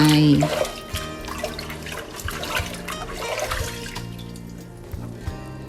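Rice being washed in water before cooking, with a steady close rush of running and sloshing water that starts with a loud splash and continues without a break.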